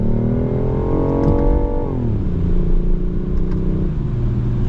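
A BMW i8 Roadster's small 3-cylinder engine pulls away from a stop, its note rising steadily before dropping at a shift and climbing again, loud and close throughout.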